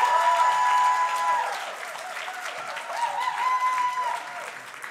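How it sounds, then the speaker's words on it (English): An audience at a live poetry reading applauds in a steady, dense wash of clapping that swells and continues for several seconds, with no speech over it. "So clap for me like I'm getting up"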